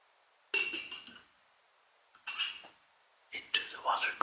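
A wine glass is set into a wider whiskey water glass, giving three separate bright clinks and scrapes of glass on glass, close and quiet, with pauses between, during a whispered whiskey-tasting glass comparison.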